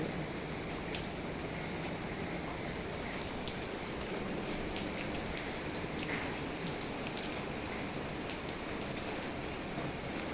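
Steady all-day rainfall at a home in rural Thailand, a dense continuous hiss of drops on surfaces, even and fairly loud throughout with no voices.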